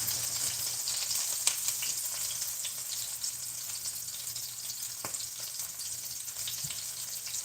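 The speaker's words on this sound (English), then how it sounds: "This is going to splatter a lot because, like I said, the green beans are wet." Wet, cold green beans hitting a hot pan for Chinese blistered green beans, a continuous close sizzle with sharp splattering pops and crackles, no voices.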